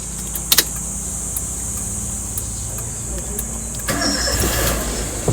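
A car engine cranks and catches about two-thirds of the way in, then runs steadily as the car is readied to be driven out. Short knocks come early, and there is a low background hum throughout.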